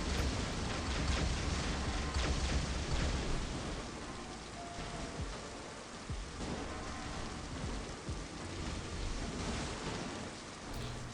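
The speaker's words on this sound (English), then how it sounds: "Thunderstorm." A thunderstorm effect from the video game Magic Survival: constant heavy rain hiss with low rolling thunder rumbling underneath, loud and continuous from start to finish, with no voices.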